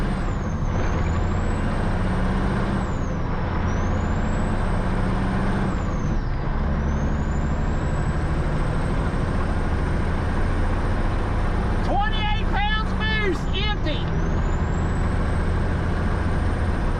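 A Hillbilly tow truck with a Cat engine and new turbo pulling away, a loud continuous diesel roar as rising turbo whistles sweep up and down, with a short burst of squealing chatter near the end.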